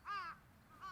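Crows cawing on power lines in a quiet morning scene from the visual novel Chaos;Head NoAH: one harsh caw, then the start of another, fairly faint, with no talk.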